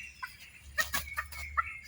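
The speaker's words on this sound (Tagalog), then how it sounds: "Manok ilahas." Short clucking calls from a wild junglefowl, a few scattered notes at moderate distance over a quiet background.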